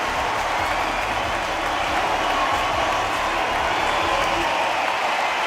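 Boxing arena crowd in the Undisputed Boxing video game, a steady roar of cheering and applause holding at an even level throughout.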